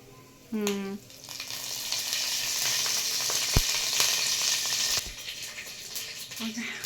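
A sharp burst of sizzling as curry leaves hit hot oil, settling into a steady crackling fry with a couple of clinks.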